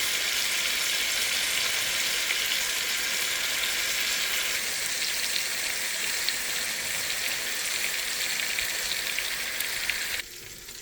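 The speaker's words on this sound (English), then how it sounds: "I'm just deglazing them with a bottle of Merlot." Beef short ribs deglazed with Merlot red wine in a hot pan, a loud continuous sizzle and hiss that holds steady and then drops off sharply near the end.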